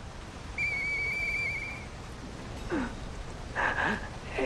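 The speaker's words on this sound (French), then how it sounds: "Utiliser le petit sifflet." A small in-game whistle from Lies of P sounds as a single clear sustained tone lasting over a second, followed by softer breathy sounds and a short rising whistle-like chirp.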